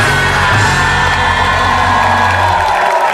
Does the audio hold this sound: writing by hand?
no